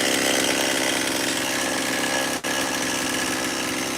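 A fast-spinning power tool with a sharp blade whines at a steady high pitch, running continuously with one brief dip in the middle, close and fairly loud.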